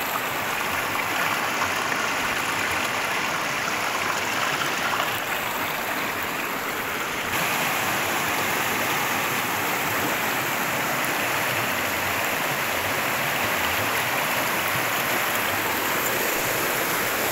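Strong current of the Paitan River rushes steadily at close range, a dense, unbroken roar of flowing water with no voices over it.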